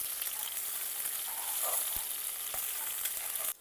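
Garlic and capsicum fry in hot oil for egg chowmein, a dense, steady sizzle close by with a few faint stirring taps, cutting off abruptly at the end.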